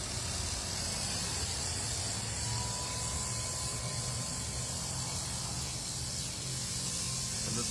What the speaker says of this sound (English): this is a 360 grit centered diamond lap that we're cutting on